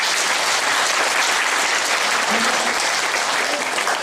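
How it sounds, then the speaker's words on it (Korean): A large audience at a Korean public talk breaks into loud, thick applause, an unbroken wash of many hands clapping at full strength from start to finish. "여러분 박수 한번 주실까요?"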